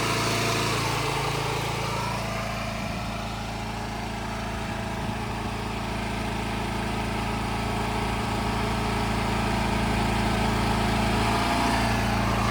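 A small pony motor engine runs steadily on a lowboy trailer, a continuous droning idle with a low rumble, close and constant throughout.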